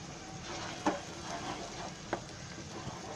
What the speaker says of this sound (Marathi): आणि आता कांदा फोडणीला टाकला आहे ना, त्याच्यामध्ये हा मसाला टाकते